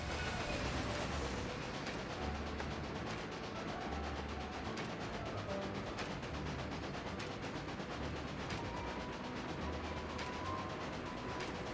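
A steam train in the railroad strategy game Railway Empire, set in the Sierra Nevada, rumbles and clatters steadily in a dense, continuous mechanical din with repeating rhythmic clicks, fairly loud and with no voices.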